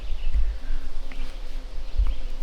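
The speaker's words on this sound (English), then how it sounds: "The mosquitoes are just..." Mosquitoes buzzing outdoors at night, a steady insect whine running through the clip with faint low rumbles and a few soft knocks.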